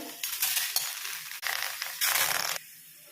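Cleaned prawns drop into a kadai on the stove in loud bursts of crackling and rattling with short gaps between, close up.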